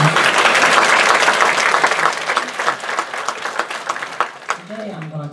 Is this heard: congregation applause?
yes